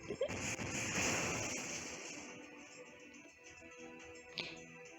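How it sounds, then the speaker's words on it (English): Explosion in the video game Fate/Grand Order: a broad roaring burst that swells over the first two seconds and then fades into a rumbling tail, with a short sharp crack near the end. "An explosion?"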